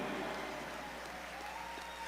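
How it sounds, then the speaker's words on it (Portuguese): A church congregation at a Pentecostal sermon applauds, a broad, muffled wash of many hands clapping that stays steady and fairly faint throughout. "Aplaude sem eu pedir"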